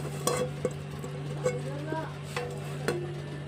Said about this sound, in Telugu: ఇలా కలుపుకోవాలి చూసారా ఇప్పుడు చింతపండు ఇది బాగా పోపు మొత్తం కారం ఉప్పు ములంకాయలు అన్నీ కలిసేలాగా మనం కలుపుకుందాం